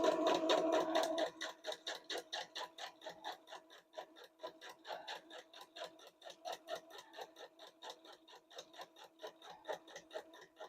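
Sewing machine stitching quilt pieces for a wolf quilt, a fast, even run of rhythmic needle clatter that starts with a louder whirring burst and then continues steadily and fairly quietly for about ten seconds.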